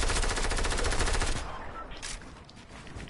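Rapid automatic fire from a drum gun in a PS4 video game, a dense loud burst of gunshots for about a second and a half that then cuts off, leaving quieter game noise and scattered faint shots.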